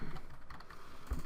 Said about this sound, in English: I apologize for the awkward typing and slow typing